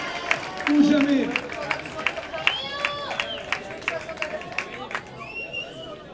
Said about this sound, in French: retour des joueurs, avec tonnerre d'applaudissements, s'il vous plaît